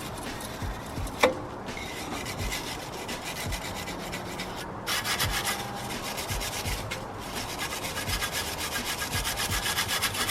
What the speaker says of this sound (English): use a steel brush to take all the extra excess and dust off